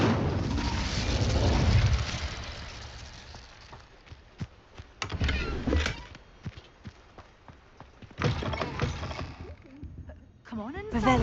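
Fire spell cast in Hogwarts Legacy: a loud whooshing burst opens the clip, followed by several shorter flaring blasts of flame later on, with voices talking over the game sounds.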